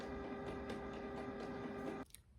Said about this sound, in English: Can you hear the printer? It's like turning on.